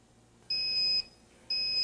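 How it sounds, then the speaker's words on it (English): A T40 Rattler personal gas detector sounds its low-level alarm, two crisp, high electronic beeps, each about half a second long, separated by a short gap over quiet room noise. "the low-level alarm should activate when the instrument detects a concentration of 10 ppm"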